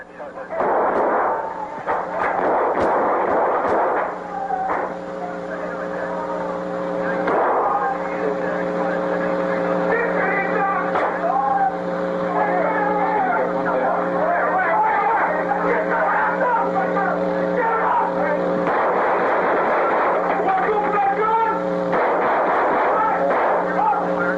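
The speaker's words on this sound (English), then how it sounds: "A gunfight erupts with the 4 gang members." Gunfire in a police gunfight with four gang members inside a store, sharp reports scattered through a dense, noisy mix under steady narration and background chatter.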